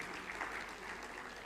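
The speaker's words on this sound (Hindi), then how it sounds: "हाँ ताली बजा लो, आप ताली बजाने में दिक्कत मत रखो।" An audience claps together during a Hindi motivational talk at an evening event, a soft, steady wash of many hands that stays even and fairly distant throughout.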